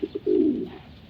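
Racing pigeons coo close by in a loft: two short soft notes, then a longer rolling coo that fades out, with no one speaking.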